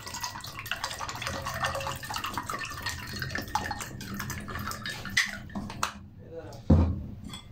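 A utensil swirls and clinks through sharbat made with mango and mint, a soft, close, watery sloshing and scraping that continues steadily under a speaking voice, ending with a brief louder knock.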